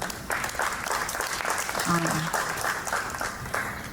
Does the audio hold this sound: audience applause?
yes